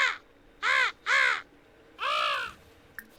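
A crow in the video game Perfect Life gives four loud, harsh caws near the listener, two quick ones followed by a longer, drawn-out call, with brief quiet gaps between them.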